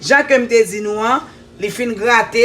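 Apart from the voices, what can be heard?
No distinct noise like a dog, phone or traffic.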